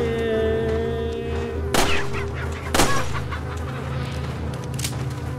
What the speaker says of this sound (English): That made the chickens angry.